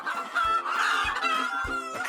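A Tosa Jiro hen clucks in a short series of throaty, repeated calls, close and clear, with no talking around it.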